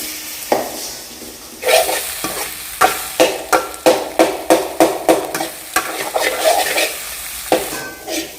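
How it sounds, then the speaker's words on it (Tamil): Eggs for egg rice being fried and stirred in a pan: loud rhythmic scraping strokes, about a dozen in quick succession, over a constant close sizzle, with no talk. "முட்டையை பாருங்கள் ஃபுல்லாக வந்து இப்போ நம்ம வந்து ஃப்ரை பண்ணிட்டோம்"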